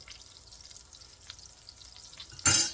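Corn fries in hot butter and grease in a skillet with a soft, faint sizzle, then a loud burst of crackling hiss erupts at the end.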